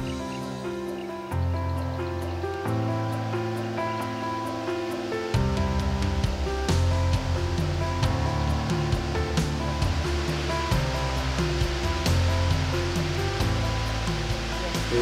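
Waterfall pouring into a small lake in the South African wilderness, a steady broadband rush of falling water that stays continuous and fairly loud throughout, swelling a bit partway through, with no voices.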